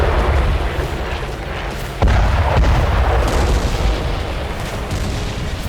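A building in Gaza is blown up: a loud, close explosion bursts in around two seconds into a sustained heavy roar and rumble that lingers for several seconds, with further booming and debris noise, no voices present.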